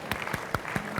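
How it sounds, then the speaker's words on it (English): Scattered audience clapping at a motivational talk, a handful of distinct, separated claps spread across a brief moment, fairly close and fading off. "keep clapping for yourself and grab a seat"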